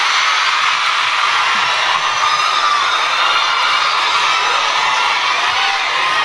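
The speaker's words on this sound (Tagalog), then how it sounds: "Dahil kayo ay sumisigaw ng Duterte, suspended na kayo lahat bukas." A large crowd at a Sara Duterte event in Hong Kong cheers and shouts without letup, a dense, loud roar of voices with high whoops and shrieks running through the whole stretch.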